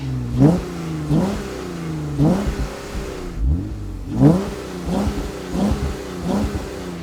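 Deep exhaust note from a Jeep Wrangler JK with a Magnaflow Performance Series black dual-outlet axle-back exhaust, revving repeatedly in short bursts, each rise in pitch followed by a burbling fall, loud and close.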